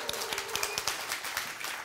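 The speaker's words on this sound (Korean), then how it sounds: "박수!" An audience at a lecture on Greek and Hebrew claps for a participant, a burst of scattered, moderately loud hand claps with uneven rhythm for about two seconds.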